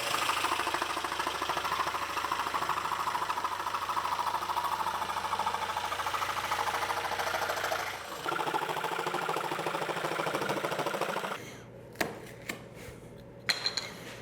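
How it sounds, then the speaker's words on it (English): A jigsaw fitted with a fine blade saws through a wooden template on a workbench, a loud, steady buzzing rasp that pauses briefly midway, then stops, followed by a few scattered knocks and clatters. "we're gonna use a jigsaw with a fine blade"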